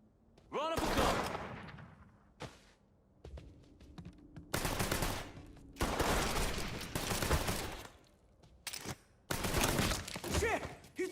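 Gunfire in the Mafia game, repeated loud bursts of automatic fire from a gun firing at close range, coming in separate volleys with short gaps between them, with voices shouting in between.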